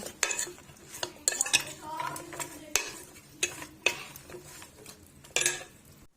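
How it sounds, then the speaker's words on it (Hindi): A spoon stirs cornflour into a masoor pulao mixture in a metal pot, giving irregular close scrapes and clinks over a soft, steady background. "ये हमने कॉर्नफ्लोर के 2 से 3 चम्मच ऐड कर लिए। अब अच्छे से कर लेंगे ऐसे मिक्स, इस तरह से।"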